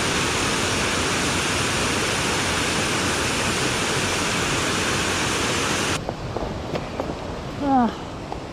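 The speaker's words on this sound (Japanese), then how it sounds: "あれが滝？" A waterfall ten to twenty metres high in mountain backcountry gives a steady, broad rushing roar for six seconds. The sound then drops abruptly to a quieter background as people talk.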